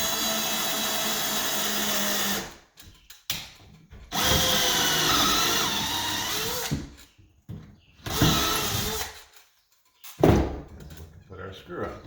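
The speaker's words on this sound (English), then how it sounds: "And then we will drill through the other hole we've already drilled." Power drill boring through a kitchen cabinet during upper cabinet installation, several loud whirring bursts separated by short pauses and quiet gaps, close by, with a voice speaking in between.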